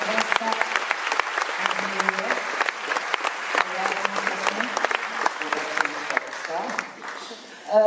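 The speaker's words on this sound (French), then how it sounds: "Je demande à applaudir aussi très très fort à Éric Chevalier et Claude Baudry" Audience at a concert at the Francofolies festival in La Rochelle applauds steadily, a dense roar of many clapping hands close by with scattered louder claps, tapering slightly near the end before swelling again.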